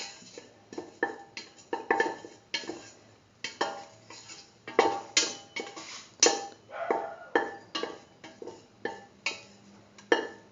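Utensils scrape and clink against a pan while raisins are sautéed, repeated metallic stirring strokes in a steady rhythm, close and fairly loud, with no voices.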